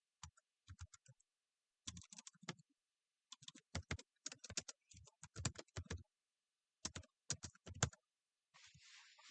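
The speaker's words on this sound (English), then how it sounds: "I'm going to type." Typing on a computer keyboard while entering text in display software, with quick bursts of close clicking keystrokes separated by short pauses.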